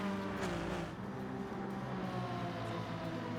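Race cars lapping Bathurst in Gran Turismo 7 during a touring car race, a continuous engine drone with faint passing swells, steady and moderately quiet, no voices.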